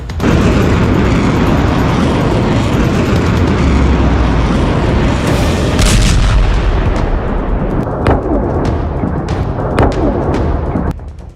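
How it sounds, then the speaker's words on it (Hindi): Explosions tear through an oil depot in Bahrain with a loud, continuous rolling roar of blasts and booms, punctuated by several sharper cracks near the end, dense and overwhelming throughout. "देखिए, बहरीन में ईरान ने तेल डिपो को कैसे धमाकों से आग का दरिया बना दिया।"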